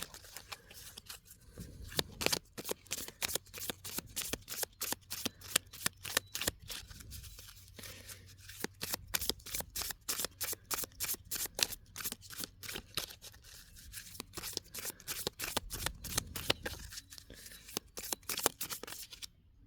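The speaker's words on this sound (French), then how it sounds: "Alors le jeu, les cartes glissent bien, se mélangent très bien." A deck of oracle cards is shuffled over and over by hand, giving rapid, crisp riffling and flicking bursts that are close and fairly quiet, with no talk.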